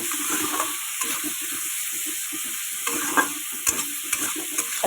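A spice paste with ginger and garlic fries in a pan for a fish curry, giving a steady close sizzle broken by repeated scraping stir strokes, with no voices.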